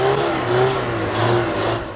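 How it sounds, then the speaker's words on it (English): A loud, raspy GMC two-stroke diesel conversion engine on an International Carrington tractor roars steadily nearby, its pitch rising and dipping slightly as it runs, then easing off at the end. "And here comes the GMC two-stroke conversion. I'm not sure I could live with that noise all day."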